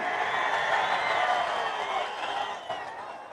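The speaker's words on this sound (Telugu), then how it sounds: "గట్టిగా చప్పట్లు కూడా చెప్పండి, సహకరిస్తామని" At a political rally in Anantapur, a large crowd gives a brief wash of applause and cheering that stays steady, then thins and fades over a few seconds.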